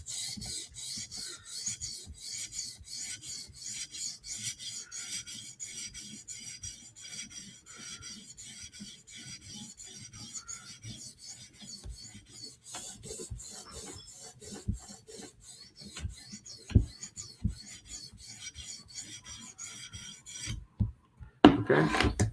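Knife blade drawn in quick repeated strokes across a 400 grit sharpening stone, a close, rhythmic gritty scraping that continues steadily, ending with a few knocks and handling sounds; no speech.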